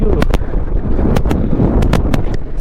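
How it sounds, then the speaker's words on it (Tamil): Strong wind buffets the microphone in a steady roar with sharp gusting thumps at a high mountain pass in the Zanskar Range, about 12,198 ft, loud and continuous with no talk. "செம்ம காற்றுங்க."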